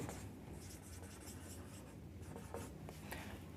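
Faint scratching of a pen or marker writing during a physics lesson, soft irregular strokes close by with no talking.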